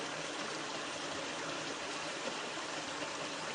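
A small waterfall in a woodland stream, giving a steady, even rush of falling water close by with no pauses; no one speaks.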